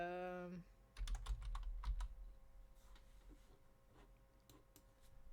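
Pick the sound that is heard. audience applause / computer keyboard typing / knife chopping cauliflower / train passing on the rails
computer keyboard typing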